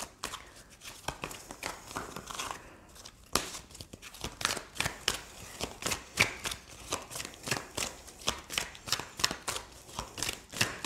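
Tarot cards being shuffled by hand, a close run of quick papery riffles and flicks repeating in an uneven rhythm, fairly soft and with no talking.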